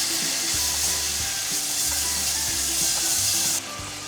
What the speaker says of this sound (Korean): 양념에 두었던 국거리를 넣고 달달 볶아주세요